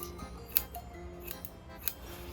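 Scissors snipping a cosplay wig's synthetic hair, three crisp, close clicks spread over a couple of seconds against a quiet room hiss.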